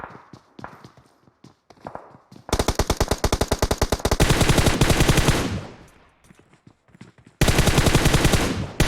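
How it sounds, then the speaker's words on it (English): Automatic gunfire from PUBG on the Erangel map, rapid bursts of shots crackling loudly, with a long sustained volley, a quieter pause of scattered single shots, then another heavy burst at the end. "Shooting through the trees is OP in Erangel"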